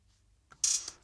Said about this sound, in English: Just like a really fast hi-hat.